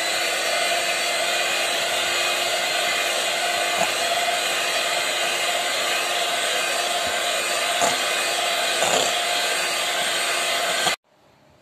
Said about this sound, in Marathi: इथं व्हिप क्रीम घेतलंय मी कपभर, त्यात आपण ब्लेंड करून घेऊया